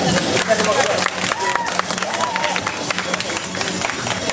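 Audience at a cosplay show applauds in a dense, loud wash of clapping and crowd noise, with voices and chatter mixed through it.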